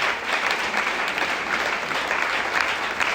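A church congregation applauds together in acclamation of the word of the Lord, a steady, dense wash of clapping that holds at an even level for the whole stretch, with no voices rising above it.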